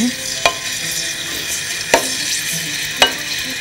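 Garlic frying in oil in a pan, a steady close sizzle broken by three sharp clacks of a utensil against the pan at even intervals; no speech.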